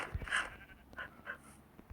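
A tamed dog in a survival video game pants in quick, soft breathy bursts with a faint whimper, a few short puffs spread across two seconds, close and fairly quiet, with no talk over it.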